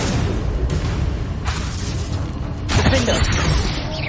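Spell blasts from Hogwarts Legacy, the Confringo and Reducto attacks, crackle and boom in quick succession over a dense game-combat bed, with a heavier burst near the end; a voice calls out spells over them.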